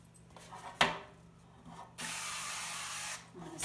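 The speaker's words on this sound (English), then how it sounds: "You can oil spray the muffin tin" Oil spray hisses from a can onto a muffin tin in a home kitchen, a short burst followed by a longer steady spray of about a second, after a sharp clatter.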